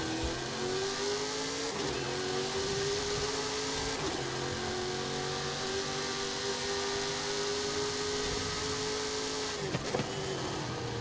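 Racing truck engine in Forza Horizon 5 holding a steady droning note, with brief dips and resumptions at gear shifts, loud and continuous without talk.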